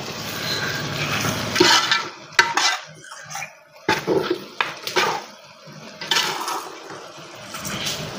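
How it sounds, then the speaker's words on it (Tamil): Chicken being sautéed in a pot for home-made biryani, with irregular metallic clanks and scrapes of a spoon against the pot over a sizzling hiss, close by and without talk. "சிக்கனை கொஞ்சம் வெள்ளை ஆகிற வரைக்கும் ஓரளவுக்கு வதக்கணும்."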